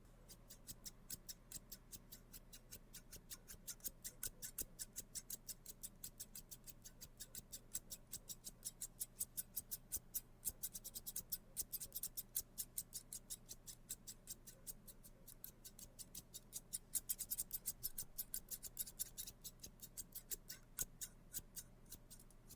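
Repeated crisp snips of scissors cutting close up, a steady rhythmic series of sharp clicks with no talking.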